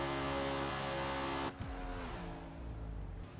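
A NASCAR race car in the Forza Motorsport video game, held flat out: a loud, steady droning engine tone that briefly dips and shifts at about the midpoint, then carries on at full throttle with no voices.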